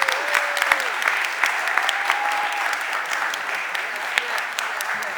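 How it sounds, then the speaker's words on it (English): A city council chamber breaks into sustained applause for a retiring Philadelphia police inspector, dense even clapping from a roomful of people throughout, fairly loud and without a break. "Let's give him a round of applause."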